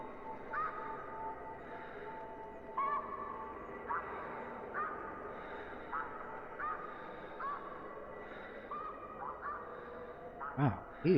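Geese honk in the hunting game theHunter Classic, a series of short calls scattered through the clip, moderately distant, over steady ambient wildlife background with a louder burst near the end.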